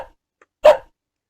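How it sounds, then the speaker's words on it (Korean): A single short dog bark, clear and close, plays as a sound effect in a block coding program when an arrow key triggers it, with silence on either side. "이렇게 강아지 신호를 보냈을 때 이런 강아지의 소리가 재생됩니다."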